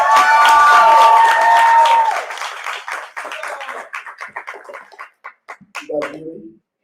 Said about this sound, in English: please give a thunderous applause to Mr. Melik Monal.